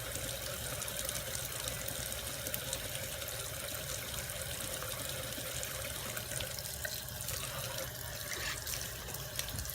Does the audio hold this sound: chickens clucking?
no